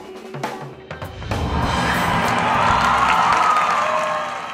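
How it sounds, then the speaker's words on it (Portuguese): An audience at a dance festival cheers, whistles and claps loudly for a classical ballet performance by young girls from a dance academy, the roar building and holding steady as a dense, continuous wash. "as meninas da Academia Débora Barreto animaram o público, que aplaudiu muito e arrasaram no palco"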